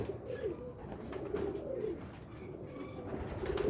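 A large pigeon coos close by in soft, repeated low calls, with faint chirps of other birds in the background.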